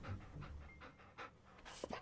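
A dog pants in the fishing game Moonglow Bay, with quick, rhythmic breathy puffs that sound faint and close, a few sharper sounds near the end, and no talking.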